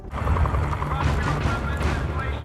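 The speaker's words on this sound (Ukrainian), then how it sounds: "Де мій кулемет? Діставайте кулемет!" Dense, continuous machine gun fire with a heavy low rumble, loud and unbroken throughout, in the video game The Precinct.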